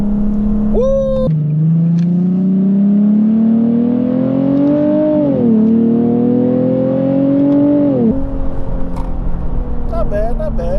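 A custom Nissan 370Z accelerates hard, its engine revving loud and close from inside the car with rising pitch through a couple of gear changes, then settling.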